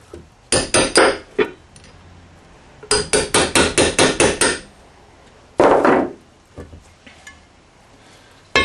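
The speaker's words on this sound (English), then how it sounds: "I'm punching it a little bit this way and a little bit down, hopefully to get, there's a ring, hopefully to catch the inside race of the seal and just punch it out" Sharp metal hammer blows drive a punch against a transmission seal, struck in quick bursts of three to eight hits with short pauses between groups, loud and close with no talking.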